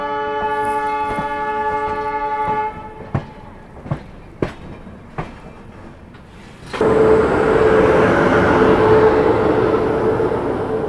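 A passenger train bound for Varanasi: first a steady tonal hum with a few sharp clacks, then a loud broadband rushing roar of the carriage running along the track, close and continuous.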